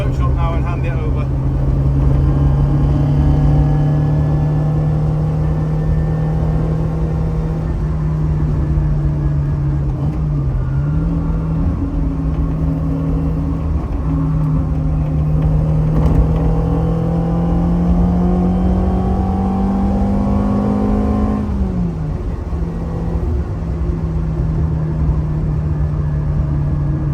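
A Hillman Imp rally car cruising along the road, its engine a steady droning hum that rises and falls gently with a couple of gear changes, close up inside the cabin throughout.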